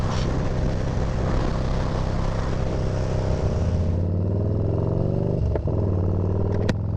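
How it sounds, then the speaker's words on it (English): A motorcycle engine roars loudly during a ride, with strong wind rush and a rumbling drone that shifts pitch as the engine note drops partway through, then settles lower with a few sharp clicks. "Oh my God, this bike is loud now that I don't have earplugs in"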